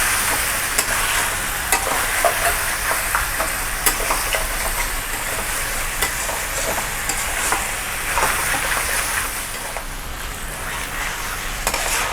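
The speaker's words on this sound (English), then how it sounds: "Now fry this really well at high heat along with the onions." Chicken fries with onions at high heat in a kadai, a dense continuous sizzle with frequent scraping stirs of the ladle, steady and close throughout.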